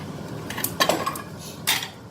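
A lid clinks onto a pan with two clear metallic knocks, near and fairly loud, plus lighter rattles of cookware during pizza-party cooking at home.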